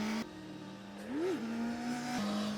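A motorcycle on a slippery race track, with a steady engine drone that rises and dips briefly as it revs, then settles again, heard at moderate distance without voices.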